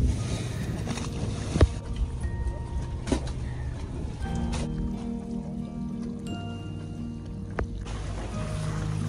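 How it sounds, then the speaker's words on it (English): A small dinghy motors around a Nordhavn 68 motor yacht on open water, its outboard droning steadily with wind buffeting the microphone and water slapping, plus a few sharp knocks. "endlessly filming the Senjero as I go around and round in the dinghy"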